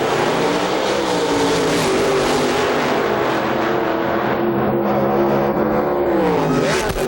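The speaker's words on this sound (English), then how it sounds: "they're supercharged alcohol-burning machines" Supercharged alcohol-burning drag racing cars, alcohol funny cars, launching at an IHRA national event, a loud continuous roaring blast of engines at full throttle that holds steady close to the track.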